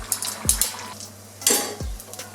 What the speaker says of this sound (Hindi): व्यूअर्स, समोसे फ्राई हो चुके हैं,